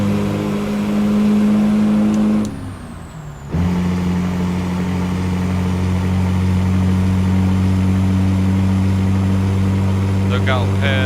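A HaterBilt 389 truck in American Truck Simulator, just downshifted into sixth gear, drones steadily in a loud low engine tone. A short dip in the sound around the shift gives way to sustained engine hum, with a brief ticking near the end.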